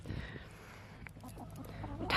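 Farm chickens on the other side of a gate cluck and murmur softly at feeding time, a low scratchy flock chatter over background noise that grows a little louder at the end.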